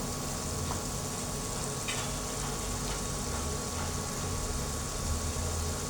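Taro stolons and shrimp frying in a pan with ginger paste, garlic paste and chopped onion, giving a steady, close hiss of sizzling oil with faint ticks and crackles throughout and no talking.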